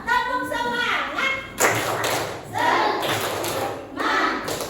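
A primary school class at SDIT Yasfi in Bekasi does a rhythmic spirit clap, with bursts of group clapping and thumping in short patterned runs that alternate with children's voices.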